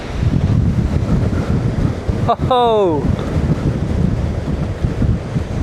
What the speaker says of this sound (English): The huge waves crashing on that.